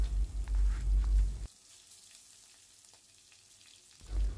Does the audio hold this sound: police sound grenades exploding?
no